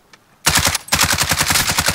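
Rapid automatic gunfire from the video game Warzone, a short blip then a loud sustained burst of evenly spaced shots filling the clip, close and dense.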